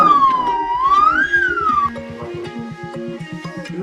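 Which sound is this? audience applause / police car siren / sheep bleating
police car siren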